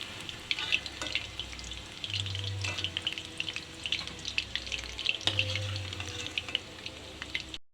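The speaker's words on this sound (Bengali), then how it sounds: "লাল লাল করে ভালো করে ভেজে নেব।" Chicken pakoras deep frying in hot oil, giving a steady crackling sizzle with scattered pops throughout and a couple of brief low rumbles, close and moderately loud.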